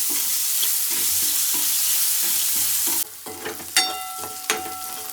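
Onions cooking in hot oil with ginger, garlic and chillies in a pan, a loud dense sizzle that suddenly softens partway, then continues with a few sharp clinks of a spoon stirring against the pan.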